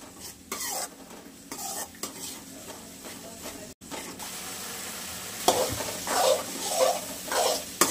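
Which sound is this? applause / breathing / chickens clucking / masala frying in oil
masala frying in oil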